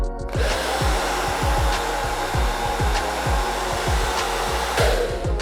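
A hair dryer on its cold setting blows a loud, steady whoosh right up close, with faint rhythmic thumps and ticks from brushing or handling underneath and no talking.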